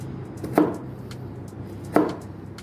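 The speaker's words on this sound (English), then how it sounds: "so now I'm going to cut the bitter gourd" A knife slicing bitter gourd thinly on a cutting board gives two crisp, distinct chops about a second and a half apart, close and clear over quiet background.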